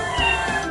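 A cartoon kitten, found shivering in the snow during a rescue by vehicles, gives one short, plaintive meow, close and clear.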